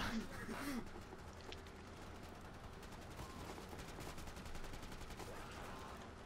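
Assault rifle gunfire from the video game Killing Floor sounds as rapid automatic bursts of shots, steady and fairly faint, running throughout with gameplay noise underneath.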